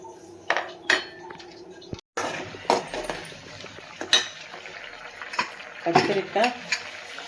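Metal pot lid set down over simmering drumstick sambar in a kitchen pot, a few faint clinks and clatters with soft bubbling underneath and a brief voice.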